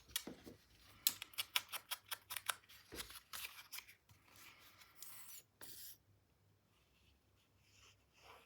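Paper is trimmed for a scrapbook mini album page, a quick run of soft, close cutting snips followed by quieter rustling and scraping of paper.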